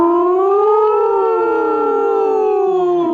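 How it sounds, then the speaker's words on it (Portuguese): A loud, close ambulance siren sounds as a continuous wail, its pitch slowly rising and falling across the whole stretch. "A ambulância"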